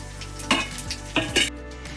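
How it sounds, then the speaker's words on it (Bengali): Nigella seeds frying in oil left over from frying fish give a quiet hiss, with two or three quick clinking stirs of a spoon in the pan. "কালো জিরে ভাজা হয়ে গেছে"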